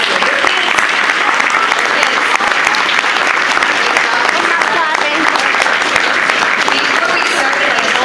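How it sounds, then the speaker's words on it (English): An audience at an elementary school concert gives loud, sustained applause for a children's choir, a dense, continuous roar of clapping that stays strong and even throughout. "So give them another round of applause"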